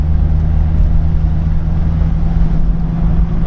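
1986 Chevrolet Suburban engine running at part throttle with a surging fault, a loud steady low rumble heard close up throughout.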